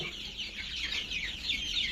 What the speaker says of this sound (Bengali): এগুলো সব আমার দেশি মুরগির বাচ্চা